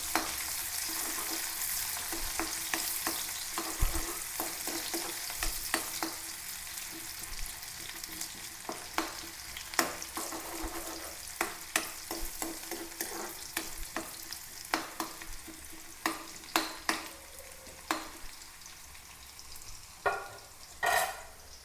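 Sliced onions frying in hot oil for Angamaly-style fish curry, a soft sizzle under frequent sharp spatula taps and scrapes that come irregularly and grow louder toward the end.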